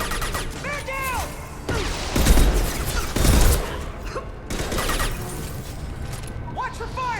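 Gunfire bursts from a Mass Effect 2 firefight, several loud shots and crashing impacts over about seven seconds, with chirpy game effects and voices in the background.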